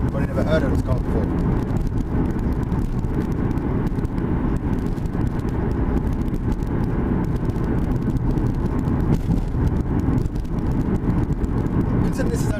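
A Mitsubishi Lancer Evolution X with a 2-litre engine drives along with a steady, close engine and road roar filling the cabin, holding an even level throughout.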